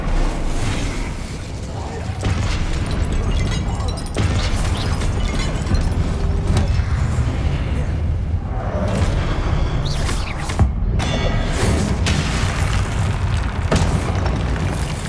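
Fiery Confringo and Incendio spell blasts in Hogwarts Legacy, a steady run of loud booming explosions and bursts layered over dense game combat noise, with frequent impacts throughout.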